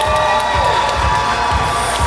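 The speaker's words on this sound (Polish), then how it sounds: "No i zobaczymy, jakie będą państwa oklaski." Audience at a bodybuilding competition's Men's Aesthetics final in Piotrków Trybunalski applauds and cheers loudly, with rhythmic clapping and shouting voices filling a hall continuously.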